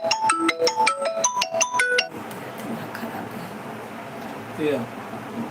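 A phone ringtone plays as a quick, bright electronic melody of repeating notes for about two seconds and then cuts off, leaving low room noise and faint background voices.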